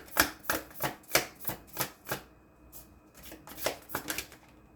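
Tarot cards are shuffled by hand in a series of close, crisp riffling bursts, roughly a dozen quick rustles in an uneven rhythm with a short pause midway, no speech.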